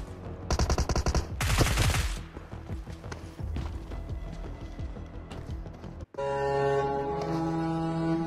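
Weapon fire sprays at an enemy in PUBG Mobile: loud rapid bursts of gunshots, then a sustained crackling stream of shots, ending in a droning tonal sound, with no talking.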